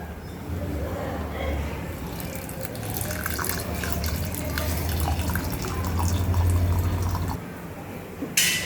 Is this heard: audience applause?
no